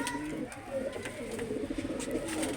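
Soft, repeated cooing of pigeons nearby, a low continuous warble with faint background noise.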